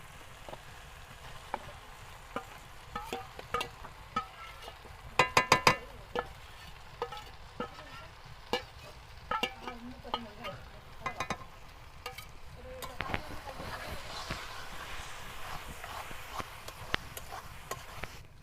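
Ground spice paste stirred into a pan with chopped tomato for chicken biryani, giving a low frying sizzle with scattered spatula scrapes and taps, a quick burst of metallic clicks, and a louder, denser sizzle near the end.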